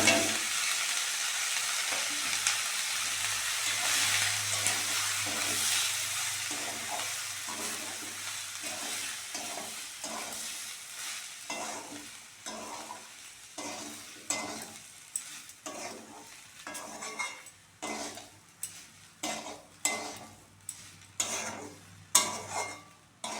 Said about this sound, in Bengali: সবজিগুলোর সঙ্গে সুজিটা ভালো করে ভেজে নিয়েছি।